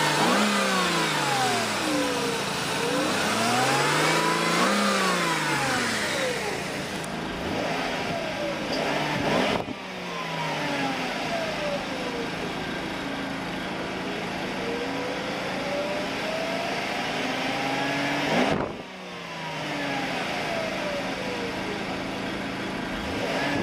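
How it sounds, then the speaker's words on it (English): A 1997 Mercedes-Benz E420 W210 V8 is revved repeatedly: the engine swells up and falls back in several smooth sweeps, with a couple of abrupt drops back toward idle, loud and close, with no speech. "Let me give it a little rev."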